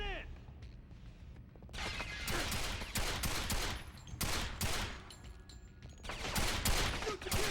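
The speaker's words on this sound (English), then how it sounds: "let me use a gun that has gun sounds" Gunfire in the PS2 game 007: Quantum of Solace, bursts of rapid automatic shots repeating in clusters over steady game background sound, loud and close throughout.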